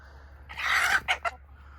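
Ducks give a loud, nasal call close by, one drawn-out note followed by two short, sharp bursts over a faint low background hum.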